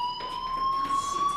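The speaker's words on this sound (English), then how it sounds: "Hey, do you hear that fire alarm?" Fire alarm sounding in the video game Life Is Strange, a steady, continuous electronic tone held without a break, fairly loud and alone.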